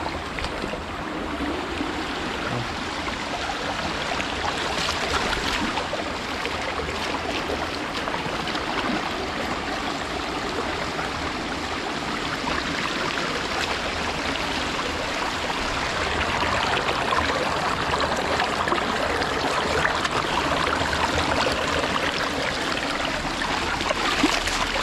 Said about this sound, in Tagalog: bali malaki pa yung agos niya